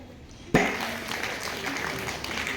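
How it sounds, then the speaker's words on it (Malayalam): Audience clapping at a literary festival celebrating a poet's centenary, a sudden onset of applause that then carries on steadily at moderate loudness from a room full of people. "ഉറക്കമെങ്കിലും പോകും കേട്ടോ കൈയടിക്കുമ്പോഴേ"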